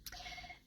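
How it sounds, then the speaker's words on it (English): A telephone rings with one short electronic tone burst, quiet and clear, with no one talking. "Now that phone is ringing."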